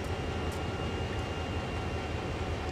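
A heavy CSX freight train rolls along in a train simulator game, a steady low rumble of rail noise with a faint constant tone, loud and continuous with no talking.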